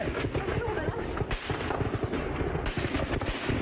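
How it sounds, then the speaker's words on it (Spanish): Rapid bursts of gunfire from an exchange of fire in Altar, Sonora crackle continuously, dense and sharp, with faint voices mixed underneath. "empezó ahí pues un intercambio de disparos"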